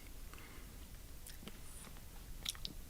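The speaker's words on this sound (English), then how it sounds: "You can hear me crunching" Someone crunching food while eating, close to the mic: scattered sharp crunchy bites and chews over a steady background hiss, with no talking.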